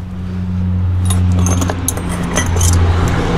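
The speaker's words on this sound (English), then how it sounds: "Get these wrenches out of the way." Metal wrenches clink and rattle as they are shifted aside during mini bike assembly, a series of bright jangling taps over a steady low engine-like hum in the background.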